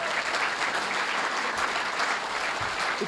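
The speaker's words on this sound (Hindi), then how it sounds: "जोरदार हजी एक बार ताली आपने मारीए" An audience at a community gathering claps together in a dense, sustained burst, close and fairly loud, with no voices over it.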